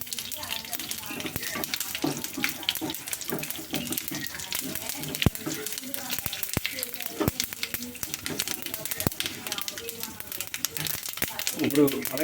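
Cumin seeds crackle and sizzle in hot oil during a tempering with chana dal, urad dal and mustard seeds for a tomato chutney, a steady dense frying hiss with small pops and clinks, while a voice talks over it.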